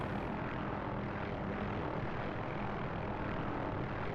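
A helicopter in the DCS flight simulator game drones with a steady, dense rotor and engine roar while hover taxiing, loud and unbroken throughout.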